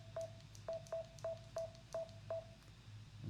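Seven short, evenly spaced phone dialing tones beep over a faint low hum while a call is placed during a live podcast, with no talking.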